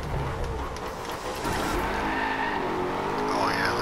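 Racing car engines roar steadily in a driving video game, with tires squealing and skidding through slides, loud and continuous with a rising engine whine near the end.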